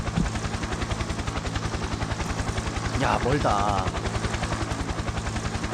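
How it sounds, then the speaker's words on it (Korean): Helicopter rotor chop in the video game Survival Frenzy, a loud steady pulsing beat throughout, with someone briefly speaking over it midway. "이 헬기는 못하겠네요."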